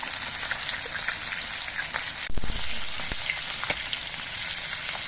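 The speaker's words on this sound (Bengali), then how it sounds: "এবার উল্টে নিয়ে দু পিঠি আমি ভেজে নেব তো মাছগুলো" Koi fish frying in oil in a wok, a continuous close hiss and crackle with a brief louder sizzle midway as the fish is turned.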